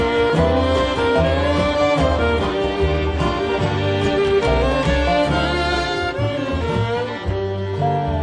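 Dense, bright mandolin plucking plays rapidly within a full, steady band arrangement, a rich continuous texture with no voices.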